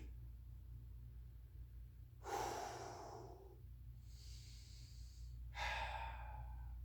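Two deep, audible breaths during a yoga warm-up hamstring stretch, each a slow airy inhale or exhale with a brief softer breath between them, close and quiet over a low background hum.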